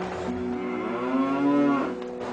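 A cow lowing, one long drawn-out moo that rises and fades, close and clear with no talking.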